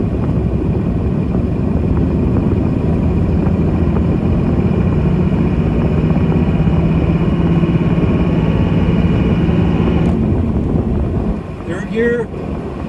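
A 1999 Dodge Ram 3500 with a Cummins diesel engine driving down a road and shifting gears, its loud, continuous, throaty drone heard from inside the cab, with a voice speaking briefly near the end.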